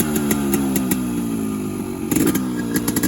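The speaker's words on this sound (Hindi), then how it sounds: "तो गाइज अब सैफ भाई हमारे गाड़ी का साउंड सुनाएंगे." A Yamaha RX100 two-stroke motorcycle idles loudly with a rapid, buzzy, popping exhaust beat, then catches a sharp blip of throttle near the end, heard up close with no talking.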